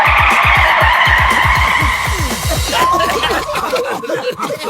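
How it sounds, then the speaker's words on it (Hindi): A cartoon car skids to a stop with a drawn-out tire screech over a busy, loud comedic music and effects bed, with giggling voices mixed in. "बट्टू, गाड़ी रोकिए"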